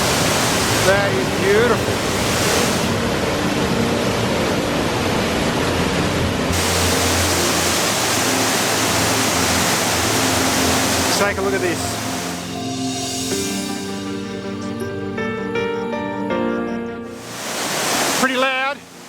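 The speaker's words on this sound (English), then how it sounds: "the sound of the water falling, cascading across multiple levels here" Loud, steady rush of a waterfall cascading down multiple rocky levels, filling the whole clip as a dense broadband roar, with someone speaking briefly over it.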